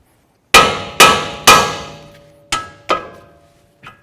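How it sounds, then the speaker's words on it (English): A hammer strikes a steel steering knuckle on a 2008-12 Chevy Malibu six times to free a tie rod end, each blow a sharp ringing clang that decays quickly, the last ones lighter and more spaced out. "it's great to use a hammer, bonk right on the knuckle right here and break it free"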